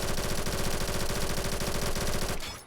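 A gun in the Phantom Forces video game fires a rapid, sustained automatic burst of closely spaced shots, loud and near, then cuts off abruptly.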